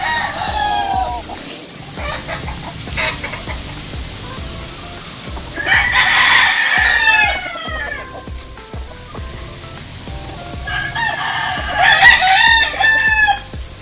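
Gamefowl stags in a backyard pen crow loudly in several long calls, one after another, over a constant background of clucking and scattered chicken noises.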